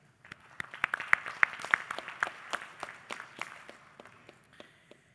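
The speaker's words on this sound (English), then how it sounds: "So a round of applause to you, and a round of applause to everyone present here." Audience at a financial services conference in Mauritius gives panelists a scattered round of applause, individual claps sharp and distinct, building briefly and then trailing off to a few last claps.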